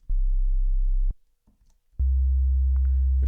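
A low sine wave pitched to C in Renoise plays as two steady, loud sustained tones separated by a short gap, pure and alone with no talking.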